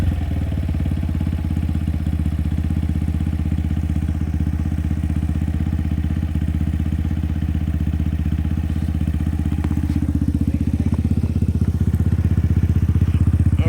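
A motorcycle with a faulty starter idles loudly and steadily up close on an offroad trip in Malaysia, a constant engine drone with a clattery texture throughout.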